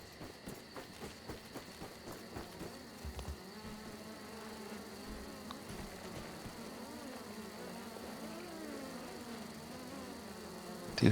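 Insects buzz in the video game Grounded, a faint, steady droning hum that carries on without a break, with no voices over it.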